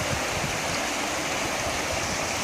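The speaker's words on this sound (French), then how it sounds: "Maintenant, je vais verser le gravier dedans." Running water pouring steadily through a gold-panning sluice as gravel is added, a loud, continuous, close rushing wash with no pauses.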